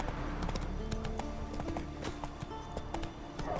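Hooves of Roach, a horse in The Witcher 3: Wild Hunt, clip-clop steadily in a fast gallop, with a short whinny and game music underneath.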